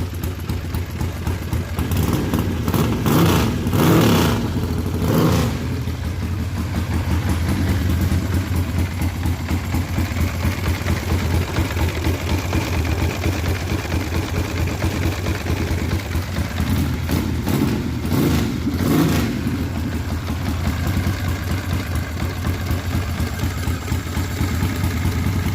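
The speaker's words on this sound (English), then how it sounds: "this V-twin build is awesome, and it sounds even better." A custom-built two-cylinder V-twin engine made from a Chevy engine idles steadily with a loping, uneven rumble and mechanical clatter, with a few louder revving pulses along the way.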